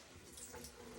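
Low-pressure water running from a tap in a house under renovation, a soft steady hiss lasting about a second, faint and continuous.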